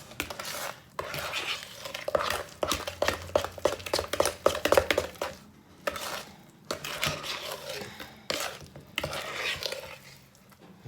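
Brownie batter stirred in a bowl, a dense run of quick scraping and clinking spoon strokes against the bowl, close and busy with brief pauses, no talking.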